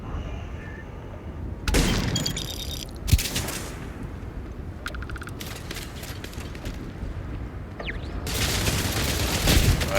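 Gun turrets firing in Starfield Shattered Space, heard as scattered sharp bursts and one louder bang over a steady rumbling game ambience, with no talk.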